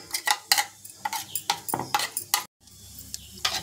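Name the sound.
cumin seeds crackling in hot pan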